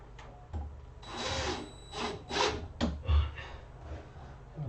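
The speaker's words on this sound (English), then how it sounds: "just going to put a couple of temporary screws in" A couple of temporary screws driven into wood on a homemade flight sim rig: short bursts of a close power drill whirring and grinding against the timber, several pulses with brief pauses between.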